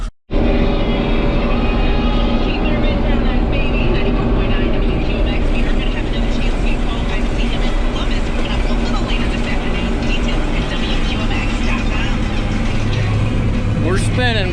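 A farm vehicle stuck in sand with its wheels spinning under a heavy load, giving a loud, steady engine roar with grinding churn that holds throughout, and a brief voice near the end.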